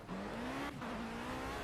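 A Formula C race car in Project CARS holds a steady high engine tone that rises slightly in pitch, heard alone with a faint tire squeal and no talk.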